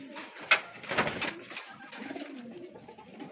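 Young pigeons newly placed in a loft coo softly in short low rolling phrases, with a sharp knock near the start and faint bird sounds around them.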